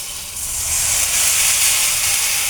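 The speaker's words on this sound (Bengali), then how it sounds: "এই যে আমি এখন পানি দিয়ে দেব" Water hits a hot pan of fried spices with a sudden loud steaming hiss that swells and holds, close and alone.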